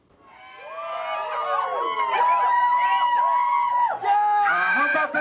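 Wedding guests in a reception hall answer a DJ with a swelling burst of cheering and whooping, many overlapping voices rising quickly to a loud, sustained roar with a brief dip near the end.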